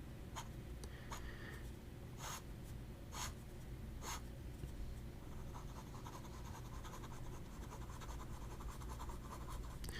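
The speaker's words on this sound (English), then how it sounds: "Fast writing, not a problem." A Visconti Voyager Kaleido Yellow Dawn fountain pen scratches quickly across paper in soft, close strokes: a few distinct scrapes early, then a faster run of continuous writing, quiet and alone.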